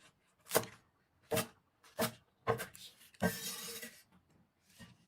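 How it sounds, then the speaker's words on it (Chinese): Kitchen knife cutting garlic chives and scallions into segments on a board, five or six distinct thumping chops spaced about a second apart, close and clear, with no talk. "韭菜和小葱都切成段"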